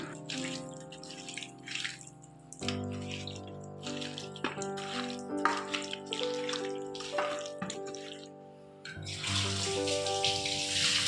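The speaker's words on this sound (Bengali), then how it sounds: "উনি এখন মাংস ধুচ্ছেন" Tap water runs and splashes steadily while meat is washed in a home kitchen, with brief pauses and a louder gush near the end; no one speaks.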